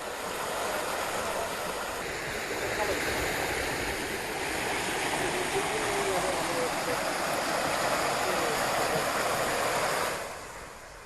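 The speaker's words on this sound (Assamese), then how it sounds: "গহপুৰৰ কৃষ্ণপুৰত ফেনে ফুটুকাৰে বাঢ়িছে পাহাৰীয়া বালিজান নৈ" The swollen Balijan hill river at Krishnapur, Gohpur, rushes in flood after heavy rain, a loud continuous broadband roar of churning water lasting about ten seconds before easing slightly at the end.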